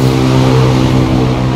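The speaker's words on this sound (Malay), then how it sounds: "video ni bising sikit sebab ada motor lalu" A motorcycle on a roadside near a Pizza Hut at Metro Park gives a loud, steady, close engine drone with a strong humming tone for the whole moment.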